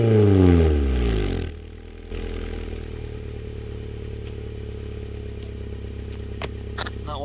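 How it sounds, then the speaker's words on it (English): A Honda Prelude engine with aftermarket exhaust roars through a loud, raspy rev, drops back, then idles with a deep, steady rumble and a few faint clicks. "And I'll give you guys a couple revs."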